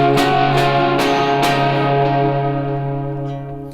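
A voiced electric guitar melody line, played through Helix effects: four bright, bell-like picked notes in steady rhythm over a sustained chord, then a long, reverberant ringing decay, alone and close.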